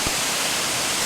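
Rushing water of a waterfall on the Benlister Burn near Lamlash, Isle of Arran, a loud steady broadband roar close by with no voices.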